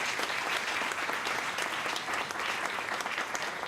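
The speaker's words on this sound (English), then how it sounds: "it does deserve a round of applause" An audience at an educators' awards event breaks into applause, a dense, even wash of many hands clapping close and steady throughout.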